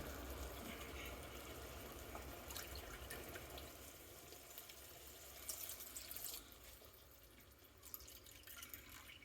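About two cups of water pour into a South Indian kotsu curry in a pan, a faint continuous trickling splash with scattered drips and sizzle, quiet and close.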